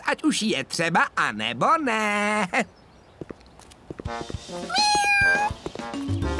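A small, high-pitched meow from a trapped kitten in a children's cartoon rises after stretches of Czech speech, with a few sharp cries from a cartoon-like voice.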